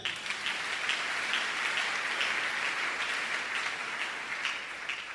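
A congregation applauding during a church sermon, a steady dense wash of clapping that stays loud and even throughout with no voices over it.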